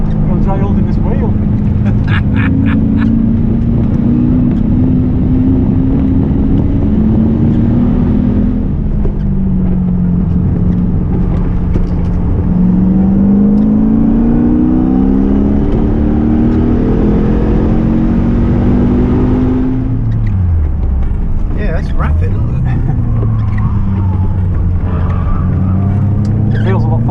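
A Lotus fitted with a Lexus V8 accelerates hard, its engine note climbing and falling in repeated revving sweeps up close, with a brief lift-off near the end and voices faintly underneath.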